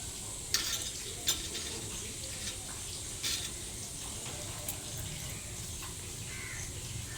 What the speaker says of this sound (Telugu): ఇప్పుడు ఇందులో చెక్క యాలకు బిర్యానీ ఆకు కొంచెం జీలకర్ర వేసుకుని వేయించుకోండి